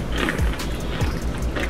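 Deep fried chicken gizzards with sweet chili sauce crunch loudly in a close mouth, a few sharp, rough bites spaced about half a second apart over chewing.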